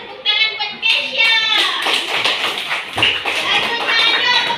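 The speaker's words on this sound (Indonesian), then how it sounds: "Tepuk tangan buat Kesya." Schoolchildren in a fourth-grade classroom clap for a classmate, a burst of quick, uneven hand claps that stays busy throughout, with children's voices chattering over it.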